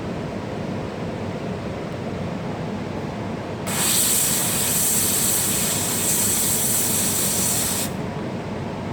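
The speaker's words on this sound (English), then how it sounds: "So my steam is not brilliant." A steam cleaner sprays steam onto a rug during chewing gum removal, a loud, steady hiss that starts abruptly over a rumbling background, holds for about four seconds, then cuts off.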